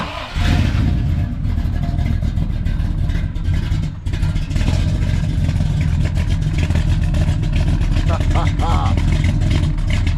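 A Trans Am restomod engine runs steadily and loudly nearby, a constant low rumble with a slight dip partway through and no talking.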